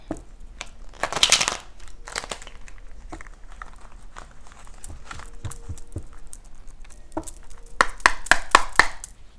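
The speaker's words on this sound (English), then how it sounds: "Let's get one more shuffle." A deck of tarot cards shuffled by hand at close range, a run of crisp papery riffles, slaps and taps in uneven bursts, with a louder flurry near the end.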